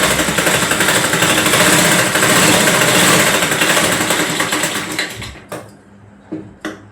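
Sewing machine stitching a frock for a five-year-old girl, a loud steady mechanical whirr running continuously for about five seconds, then slowing and breaking into a few short separate bursts.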